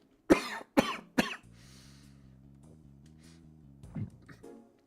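Three sharp coughs in quick succession from one person, close and loud, followed by a quieter humming tone and a final small throat sound.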